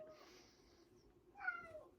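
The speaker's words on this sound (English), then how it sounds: "My cat is, I think he's got the zoomies right now" A male pet cat meows indoors, one drawn-out call followed by a brighter, louder meow near the end, fairly close and clear against a quiet room.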